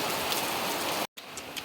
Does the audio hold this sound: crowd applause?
no